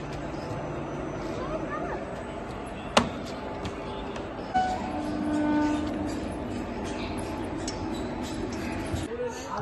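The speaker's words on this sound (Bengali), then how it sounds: "এখন ট্রেন ঢুকছে, আমরা ট্রেনে চেপে তারপর আবার কথা বলছি" A train pulls into a station with a steady low rumble and hiss, a sharp metallic clank and a few fainter knocks, under a busy background of platform noise.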